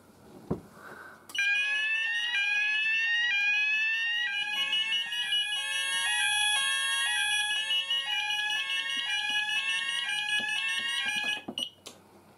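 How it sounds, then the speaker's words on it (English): Banshee XL and Apollo AlarmSense fire alarm sounders in a system test go off together, a loud sweeping tone over a repeating stepped two-pitch pattern that runs unbroken for about ten seconds and then stops abruptly. "the Banshee XL sounder was on the sweep tone, and you heard the Apollo AlarmSense tone"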